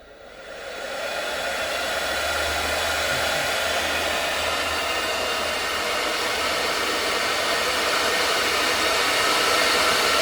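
A Viessmann combi boiler fan spins up, its airy whirring whoosh rising quickly from quiet and then holding as a loud, steady rush that keeps climbing slightly, heard alone and close.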